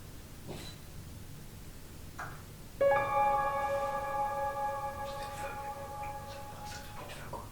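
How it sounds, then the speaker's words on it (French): A small bell jingles faintly in a quiet house interior, a short bright ringing that starts abruptly and fades over several seconds, heard alone against low background hiss with a few soft knocks before it. "c'était un bruit de clochette là"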